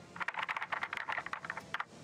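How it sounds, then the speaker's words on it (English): Keyboard typing in the adventure video game Secret Files: Sam Peters: a rapid, irregular run of sharp clicks and clatters lasting about two seconds, with brief pauses, heard close and fairly quiet with no talking over it. "this man just smacking the keyboard"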